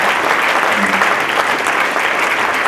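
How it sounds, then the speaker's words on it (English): Audience at a professional development meeting applauding steadily: loud, dense clapping that fills the whole moment without letting up. "now I'm going to make you clap for him one more time"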